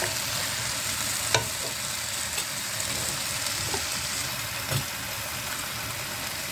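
Chicken thighs frying in a pan with black pepper, a steady soft sizzle throughout with a few faint clicks of stirring, no talking.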